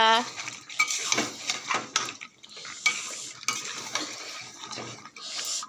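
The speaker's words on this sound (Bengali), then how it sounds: "গরম মশলা দিয়ে ভালো করে এবার নাড়বো" Chicken curry with garam masala is stirred in a pan, a spoon clattering and scraping against the metal up close over a soft sizzle, with a brief voice at the start.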